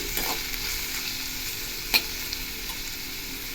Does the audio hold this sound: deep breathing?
no